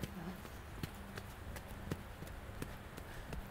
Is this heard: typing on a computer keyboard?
no